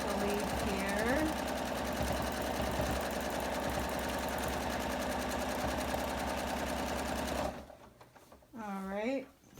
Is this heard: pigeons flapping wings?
no